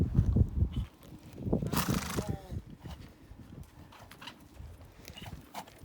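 Horses' hooves clip-clop at a colt-training session: a loud close burst of hoofbeats first, then scattered softer steps, with faint background noise.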